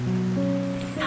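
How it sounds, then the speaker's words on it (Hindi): Rain falling outside, a steady hiss of spatter holding throughout, with sustained tonal hums and a faint voice-like tone layered over it near the end. "देखे बाहर बरसात हो रही है।"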